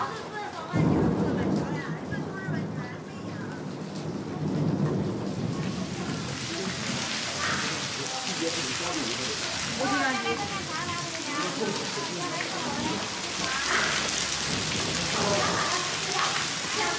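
Heavy rain pours steadily over a mountain region at Huang Shan in China while thunder rumbles through it, a dense, continuous wash of downpour from start to finish.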